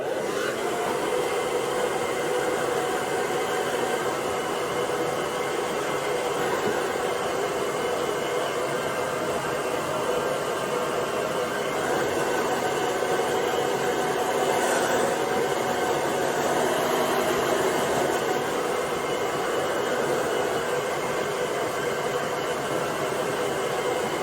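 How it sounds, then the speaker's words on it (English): Hair dryer running on a hot, high setting, blow drying hair: a loud, steady, unbroken roar of rushing air, close and constant throughout, with no talking. "I'm going to set it to hot and on high"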